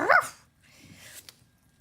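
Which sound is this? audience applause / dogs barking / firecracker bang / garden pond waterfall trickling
dogs barking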